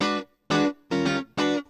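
A clean electric guitar played straight through a DI, with no amp modeling, reverb, delay or other effects, sounds four short, bright, dry chord stabs in a rhythmic funk pattern, each cut off sharply, leaving silent gaps between them.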